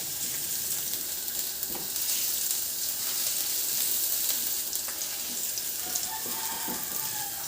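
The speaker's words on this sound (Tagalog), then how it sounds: "igisa ko na yung bawang" Garlic sautéing in hot oil in a pan, a steady close sizzle and crackle throughout with faint scraping of stirring, no voices.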